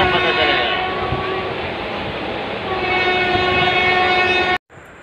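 A passenger train arrives at Haridwar station after a long run from Kolkata. Loud, sustained horn blasts ride over a rumbling, clattering roll of wheels and carriages, then cut off abruptly near the end.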